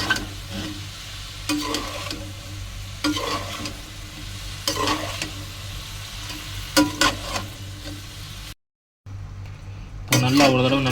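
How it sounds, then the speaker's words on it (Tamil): Cauliflower for chukka frying in a pan while being stirred, a steady sizzle broken by repeated scraping strokes of the spoon, with a brief dropout near the end and a louder burst after it. "இதை நல்லா ஒரு தடவை மிக்ஸ் பண்ணி விட்ருங்க"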